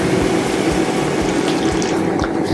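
Water poured into a hot cooking pan while making a grilled chicken and three bean stew, a continuous splashing, gurgling flow with a few bubbling bursts, close and moderately loud, no talking.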